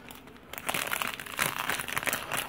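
A collectible Power Rangers blind-box package being torn open along its tear strip, close continuous crinkling and ripping of packaging that grows louder and busier after a brief quiet start.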